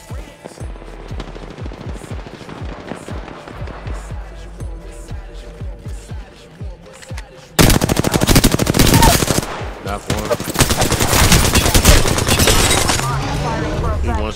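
Rapid automatic gunfire and bursts of shots in the Goat Game video game, loud and continuous, with a sharp jump to dense, heavy firing midway through.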